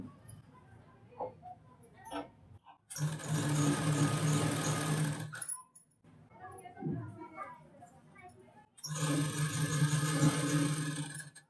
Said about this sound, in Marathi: आता इथे मी कमरेला शिलाई करून घेत आहे